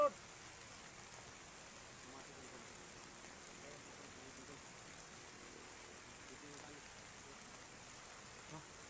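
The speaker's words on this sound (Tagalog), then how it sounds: "Ulan." Steady rain falls outdoors on people caught in a downpour, a soft, even hiss lasting throughout, faint and distant-sounding, with no clear voices over it.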